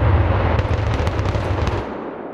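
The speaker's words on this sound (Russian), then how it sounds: "Сейчас строители взрывают там скальную породу." Road builders blast rock with explosives during highway construction in Karelia, a loud, deep roaring rumble that fills the air for about two seconds and then dies away.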